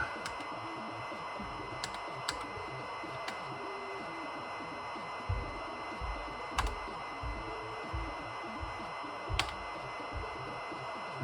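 Scattered key presses on a ZX Spectrum 128 +2B home computer keyboard, a few sharp isolated clicks spaced irregularly over a steady background hiss, fairly faint and close.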